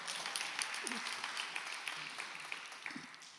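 A rally crowd claps in a steady, moderately distant patter of many hands, with a few faint voices mixed in.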